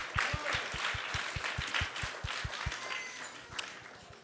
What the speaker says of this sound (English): So please give them a big round of applause for joining us tonight.